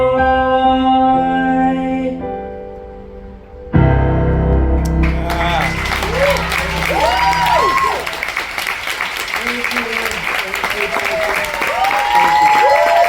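Music closes with sustained tones, then a cruise ship deck crowd bursts into loud applause for a singer, with whoops and high cheering voices rising over the clapping.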